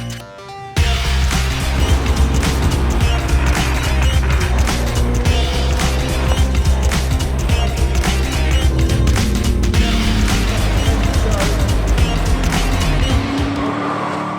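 Mainland Muscle race cars of about 700 horsepower launching from the grid on a wet, slippery track: a loud, continuous roar of several engines mixed with tire squeal and spray, close and sustained throughout.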